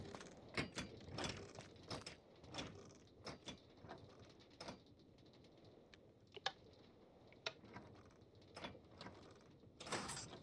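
Minecraft Create mod garage door mechanism closing, a steady series of mechanical clicks, creaks and rattling thuds at close range, fairly quiet and without talk.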